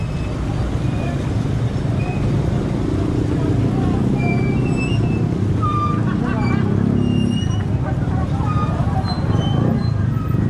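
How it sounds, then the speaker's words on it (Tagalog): Busy road traffic near Antipolo Church, thick with bicycles and motorcycles, rumbling steadily with engine drone and passing vehicles for the whole stretch, with faint voices and babble mixed in. "Daming bike, daming motor."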